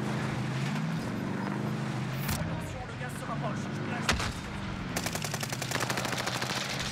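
Gunfire in the game Warzone: steady bursts of rapid automatic shots over a constant vehicle rumble, with a louder crack partway through and a quick rattling volley near the end, while someone talks throughout.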